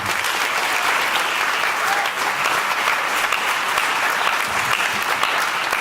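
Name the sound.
applause welcoming a graduation ceremony speaker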